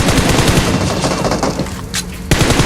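Loud, close bursts of rapid gunfire crackle in quick succession, briefly thinning out before a final sharp shot rings out at the end.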